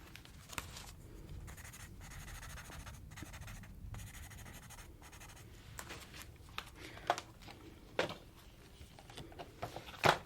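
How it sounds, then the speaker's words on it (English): A pen scratches across paper in short, soft strokes with small pauses, close and quiet, the faint rubbing and tapping typical of a calm ASMR role-play. "Let me write it down."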